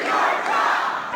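A large town hall crowd of about a thousand jeers and shouts at Congressman Jason Chaffetz, a dense, loud, continuous roar of many voices.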